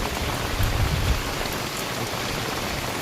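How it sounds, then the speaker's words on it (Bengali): Steady rain falls outdoors at a home, a dense, even hiss of drops on surfaces with no pauses, fairly close and continuous throughout. "বৃষ্টি হচ্ছে গো দেখো"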